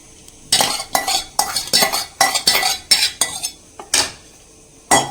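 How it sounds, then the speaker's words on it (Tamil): Beaten curd goes into a pan of paneer masala and is stirred with a metal spoon: loud, close scraping strokes against the pan in a quick irregular rhythm, with a faint sizzle underneath. "இப்போது கர்டு வந்து நான் பீட் பண்ணி வச்சுருக்கிறேன், கர்டு வந்து சேர்த்துக்கிறேன்."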